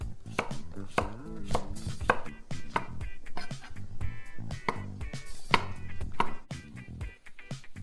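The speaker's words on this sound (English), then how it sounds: "you're gonna chop up a bunch of mushrooms and about 2 small zucchinis" A knife chops mushrooms and small zucchini on a board, making steady, fairly rapid close knocks over a tonal background.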